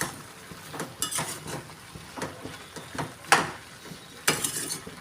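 Pumpkin curry sautéing in a pan with ground cumin, coriander and chili powder, stirred with a spoon that scrapes and clinks against the metal several times over a soft background sizzle.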